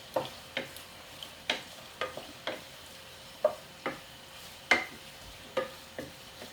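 Prawns cook in a pan over high heat for a karahi, with a soft sizzle under a series of sharp, evenly spaced clinks and scrapes from a utensil stirring, no talking.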